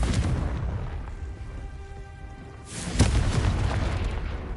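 The Confringo fire spell in the video game Hogwarts Legacy goes off as a single loud booming blast midway, set against a steady rumbling game background.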